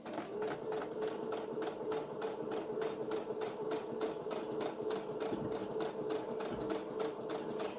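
A sewing machine stitches an Asian-inspired journal cover with a fast, even run of needle strikes. The close, steady rattle continues without a break.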